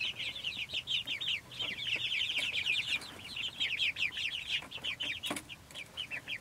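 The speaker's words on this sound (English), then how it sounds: "This is the first time these chicks have used this system." Young chicks in a pasture-raising chicken setup chirp and peep in quick, high, overlapping bursts, a steady busy chorus close by with no talking.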